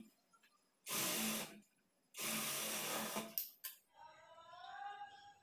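A sewing machine stitches the folded, inward-turned raw edge of cloth for a semi-patiala pant: two loud, steady whirring bursts of about a second each, separated by a pause, followed by a voice talking.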